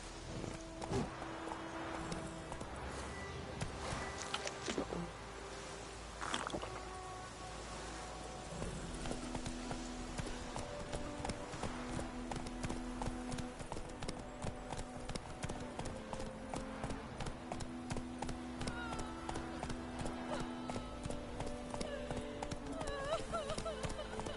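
Steady rhythmic hoofbeats of Roach, Geralt's horse in The Witcher 3, galloping at a quick clip close by, with a brief whinny and a voice speaking over the running hooves.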